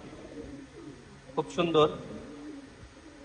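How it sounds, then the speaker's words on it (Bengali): A female pigeon gives a brief burst of cooing close by, over a low background with a person talking. "হচ্ছে মাদি কবুতরটি, মাদির পা একদম জামকালো,"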